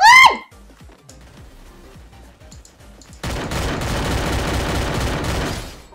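Gunshots in the mobile shooter Free Fire: a scattered run of sharp single shots gives way to a dense, sustained burst of rapid fire that fills the last few seconds.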